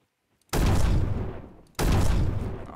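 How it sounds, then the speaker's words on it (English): Sniper rifle fire in the Roblox shooter Bad Business: two loud, booming shots about a second apart, each decaying with a long rumbling tail, after a brief silence. "As you guys can see, I'm using a sniper rifle."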